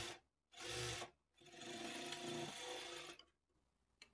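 A sewing machine stitches folded blouse cloth in two loud close runs, a short burst then a longer steady whir of about two seconds, with brief pauses between.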